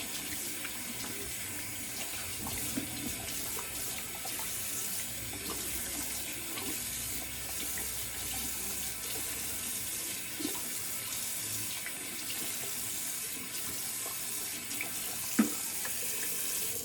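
Water runs steadily from a bathroom tap as shaving lather is rinsed off after a wet shave, a continuous close splashing hiss with no voices.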